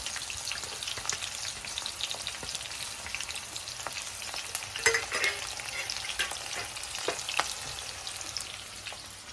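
Chopped onions, green chillies and spices frying in oil for gongura chicken, a dense, steady crackling sizzle close up, dotted with sharp pops and occasional stirring scrapes throughout.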